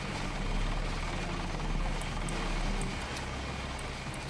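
A looping helicopter sound effect glitching in the video game Deus Ex, a continuous low rotor drone with faint high clicks, steady and moderately loud throughout, no voices.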